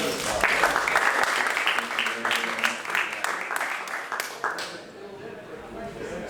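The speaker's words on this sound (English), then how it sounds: "So let's give them a round of applause." An audience at a Floyd County arts center presentation bursts into sustained applause, with dense clapping that fills the room and then tapers off toward the end.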